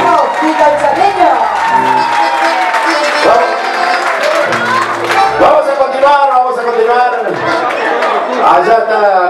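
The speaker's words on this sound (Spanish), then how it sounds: "Arriba los aplausos, Rojita el Chaqueño." Loud applause and cheering from an audience at a live accordion contrapunto performance, with clapping mixed with shouts, whoops and voices over music throughout.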